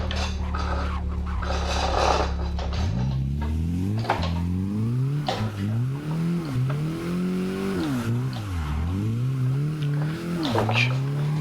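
A Mazda MX5 Miata drifts at CG Drift Park in Japan, its engine rising and falling in repeated revving surges with tyre squeal, loud and close from the car.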